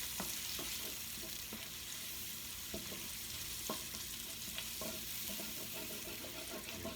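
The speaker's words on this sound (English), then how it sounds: "you want to keep stirring this pot because you don't want nothing to stick" A spoon stirs food in a cooking pot over a loud, constant sizzle of frying, with scattered scraping knocks against the pot, close up and alone.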